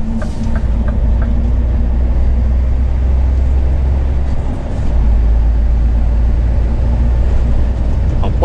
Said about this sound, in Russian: Это вот так трал этот тормозит.